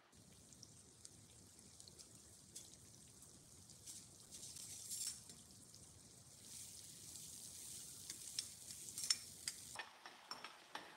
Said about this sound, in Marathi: कांदा घालून झाला तर व्यवस्थित परतून घ्यायचा आहे